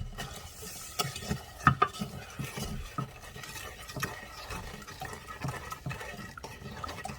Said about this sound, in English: Stir that in, let all that sugar dissolve.